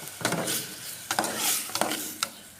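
Pork being stir-fried in a hot pan, with spatula scrapes and stirring strokes over a steady sizzle, several sharp clinks of utensil against the pan at irregular intervals.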